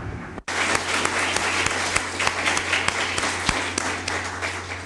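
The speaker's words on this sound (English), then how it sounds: "Sonia, big applause for her." An audience at a workshop session applauds a presenter: loud, dense clapping starts abruptly after a brief gap and holds steady, with sharp individual claps popping out over a constant low hum.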